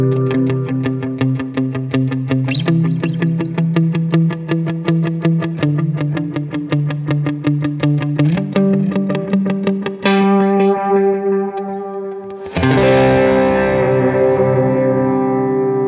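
An electric guitar runs through a Strymon Timeline delay pedal on a minimal worship pedalboard, picking a fast repeated pattern whose echoes blur together, then strumming a ringing chord that swells and trails off, loud and close.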